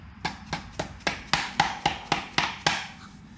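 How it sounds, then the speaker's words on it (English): A mallet strikes a socket to drive a transmission part into place, about a dozen sharp, evenly spaced knocks at a steady rhythm, close up with no talking. "And then you're going to smack it with the mallet."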